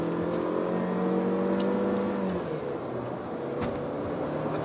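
A Honda Civic Turbo with a CVT gearbox pulls away and accelerates, its engine note rising smoothly from inside the cabin, a steady moderate hum without voices.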